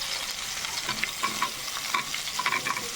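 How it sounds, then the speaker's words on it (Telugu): Fresh coconut pieces and green chillies frying in a pan, a steady close sizzle with quick light scrapes of a spatula stirring them. "కొబ్బరి ముక్కల్ని కొంచెం ఫ్రై చేసుకున్నాం పచ్చి కొబ్బరి అన్నమాట"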